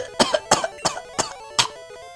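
A series of five short, sharp, sarcastic fake coughs spaced evenly apart, close and fairly loud, with a squeaky, forced quality.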